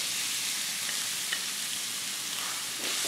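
Onions sautéing in hot oil in a pan, a dense, steady close sizzle and crackle filling the whole stretch with no talking.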